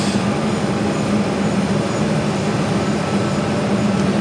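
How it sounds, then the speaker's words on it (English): Southwest Airlines Boeing 737-800 jet arriving at Phoenix gives a loud, steady broadband engine roar and rumble throughout, with no voices. "This is Southwest Airlines 2863 coming in from Denver, Colorado on the 737-800."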